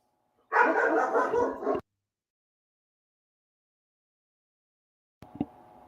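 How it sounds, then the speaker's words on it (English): A neighbor's dogs bark in a quick loud burst of overlapping yaps for about a second, then silence, then a brief fainter yip at the end. "neighbor's dogs"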